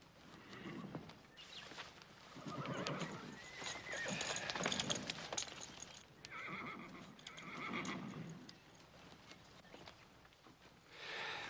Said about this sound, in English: Charlie, slap a saddle on this black horse.